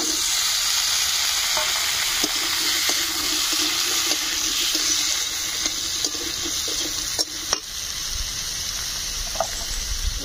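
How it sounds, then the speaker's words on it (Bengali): Potatoes fry with onion and garlic, a loud, steady, close sizzle of hot oil lasting the whole stretch, broken by faint clicks and scrapes of stirring, with no one speaking. "ভালো করে আলুগুলো কষিয়ে নিতে হবে"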